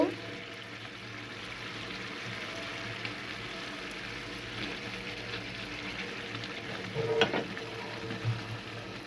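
Small chapila fish fry in a pan with spices, a continuous close sizzle that swells when the fish go in, with a brief utensil clatter partway through.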